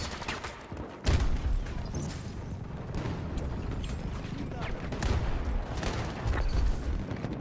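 In Battlefield 2042, a thrown grenade goes off with a heavy boom, followed by rumbling gunfire and further low blasts that continue throughout, fairly loud and dense.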